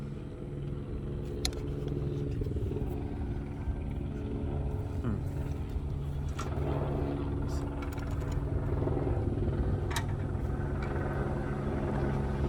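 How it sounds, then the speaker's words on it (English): A helicopter drones overhead in a steady low rumble that lasts throughout, with a few faint clicks and taps in the foreground while vehicle doors are removed and mirrors fitted. "It's odd to have a helicopter."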